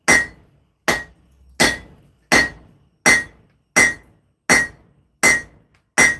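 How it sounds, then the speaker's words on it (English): Hammer blows ring on hot metal while forging an axe: nine sharp, evenly spaced metallic strikes with bright ringing decay, loud and close, no voices. "The metal is now hot, so let's just give it another few hammer blows"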